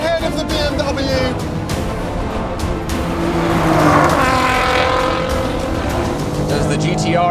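A Nissan GTR roars in an all-wheel-drive drag and roll race against a BMW M4 xDrive and Audi RS5, its engine loud and sustained with a swelling pass and tire noise, while a voice talks over it.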